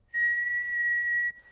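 A single steady whistled tone near 2 kHz, held for about a second, loud and close, produced by a person to imitate audio feedback.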